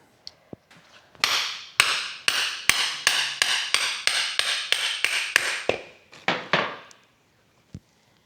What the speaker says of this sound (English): I have to get that with a hammer